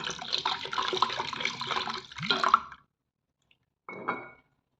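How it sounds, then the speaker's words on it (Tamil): Water pours steadily into a bowl of kneaded finger millet flour for a few seconds, then stops; after a brief silence a short splash or trickle follows. "இப்போ தேவையான அளவு தண்ணி ஊற்றிக்கலாம்"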